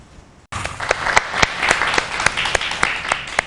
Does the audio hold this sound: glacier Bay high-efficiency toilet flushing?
no